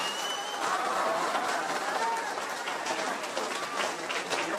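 About eighty students in a college audience clap together, a dense, steady patter of applause mixed with crowd noise.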